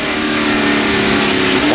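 Race cars led by Earnhardt and Kendall, heard in 1991 Banquet 300 track coverage, roar past in a loud steady engine drone that rises slightly in pitch. A commentator talks over the engines.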